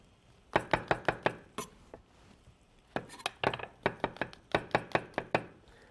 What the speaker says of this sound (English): we're going to cut some mushrooms here.